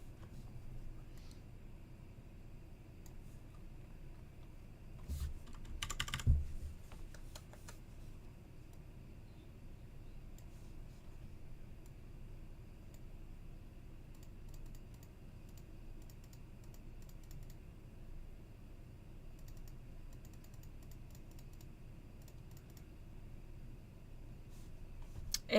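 Steady, faint clicking of keys on a computer keyboard runs throughout, with a brief louder burst of clacks partway through.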